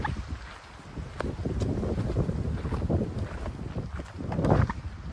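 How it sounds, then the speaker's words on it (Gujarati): Strong wind blowing outdoors, roaring and buffeting the microphone as a continuous low rumble that swells and eases, loudest near the end, with no voices. "પવન છે ને બહુ જ છે।"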